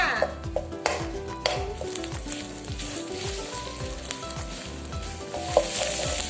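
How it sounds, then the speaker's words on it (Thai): Thai red curry paste stir-fried in hot oil in a wok, a continuous bright sizzle with repeated scraping strokes of a spatula against the pan, close and alone without talk. "แล้วก็ใส่พริกแกงของเราแล้วจ้า แล้วก็นำไปผัดให้พอหอมเลยจ้า"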